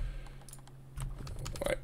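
Rapid keystrokes on a computer keyboard enter a Revit pipe shortcut: a short burst of close, crisp clicks over a low steady hum.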